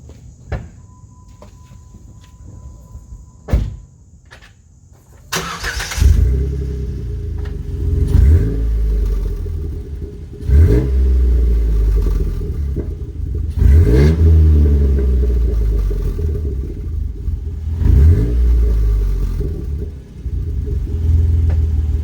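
A few clicks and a brief clunk, then a Jeep JK engine with an AFE Scorpion exhaust cranks and roars to life, revving up and down repeatedly with a deep rumbling idle between bursts.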